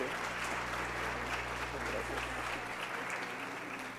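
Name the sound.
audience applause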